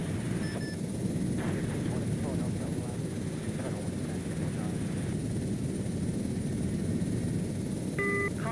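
Helicopter rotor and engine drone steadily throughout as the aircraft takes off in a military simulation game, a continuous loud whir with brief cockpit warning tones near the end.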